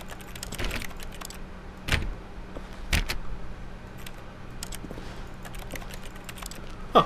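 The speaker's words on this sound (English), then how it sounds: "Huh, if I click the mouse, it makes a keyboard sound." In-game keyboard typing triggered by mouse clicks in The Stanley Parable, a handful of separate key clacks spaced out over a quiet background, fairly faint and with no speech.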